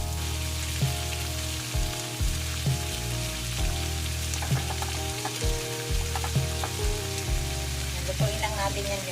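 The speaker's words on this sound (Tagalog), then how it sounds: "Lutuin lang muna natin ang ating white onion guys" Sliced white onion sizzles and fries in a hot pan, a steady crackling hiss with occasional stirring scrapes and light taps, close and continuous, with faint talking in the background.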